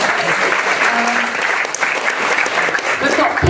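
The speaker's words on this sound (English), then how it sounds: "Give a clap for Liam already." A room of arts organisation meeting attendees applauds, a dense burst of clapping that fills the space close by and continues steadily, with voices mixed in.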